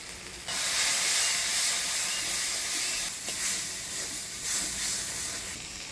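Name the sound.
water added to frying spice paste, sizzling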